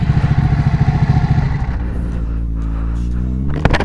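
Ducati motorcycle engine idling close by with a loping, pulsing beat that settles into a steadier drone, ending in a short clatter, no talk.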